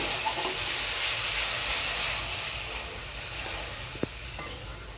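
Water poured into hot oil and spices for a Bengali fish curry sizzles with a loud, steady hiss that eases off slightly over a few seconds, ending with a small click.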